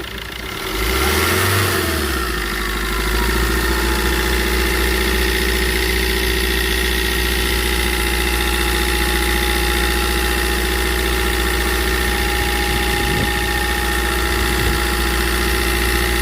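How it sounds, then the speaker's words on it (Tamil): A seven- or eight-seat car's engine idles steadily and close by with the bonnet open, a brief rev near the start before settling into an even, continuous rumble. "பேனட் ஓப்பன் பண்ணி இன்ஜின் ஸ்டார்ட் பண்ணி காமிக்கிறேன் பாருங்கள்"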